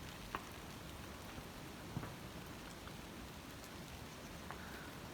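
Monsoon rain falls in the Himachal mountains near apple orchards, a soft, steady patter with a few sharper drips, faint and without voices.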